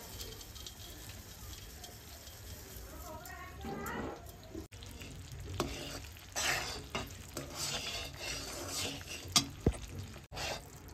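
Melting jaggery with sesame seeds and crushed peanuts is stirred in a pan for sesame laddoos, giving scraping, sticky stirring strokes and a soft sizzle that grows busier midway, with occasional faint water-like sounds.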